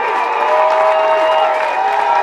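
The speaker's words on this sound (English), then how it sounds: "Blaze and Austin waving at the crowd, getting the crowd into it, and they are into it." A high school football crowd in the stands cheers and roars steadily after players wave to it, a loud sustained wash of voices and clapping with faint tonal notes riding on top.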